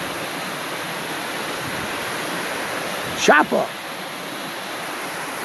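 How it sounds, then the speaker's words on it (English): Constant rushing water noise from a waterfall fills the background, steady and broadband, briefly interrupted by a short spoken word; a German Pointer mix dog is posed in front of it. "Put him right in front of the waterfall."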